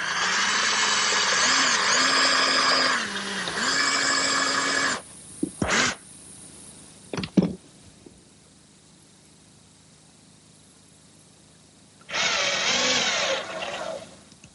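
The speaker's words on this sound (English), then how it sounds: "Now I'm just going to drill a pilot hole for a screw." Power drill boring a pilot hole for a screw in a wooden easel frame in a woodworking shop, two close whining bursts, then clicks and handling sounds, then a final burst of drilling.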